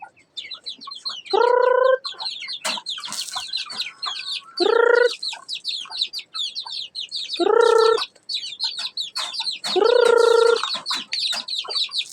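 Chickens cluck and chatter continuously nearby, with several louder drawn-out hen calls repeating every few seconds.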